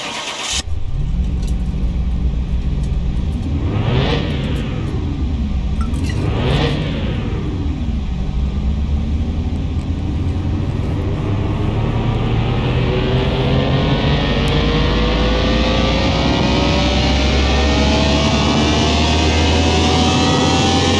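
An Aston Martin engine in Car Mechanic 21, in sad shape from years of wear, revs hard on a dyno: two sharp rising and falling revs, then a long, loud, climbing pull through the gears, alone without talk.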